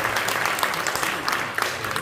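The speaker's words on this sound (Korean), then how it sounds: "인사할 때 큰 박수로 환영해 주시면 감사하겠습니다" Warm burst of applause welcoming new members at a church presbytery's regular meeting, many hands clapping steadily from a crowd in an indoor hall.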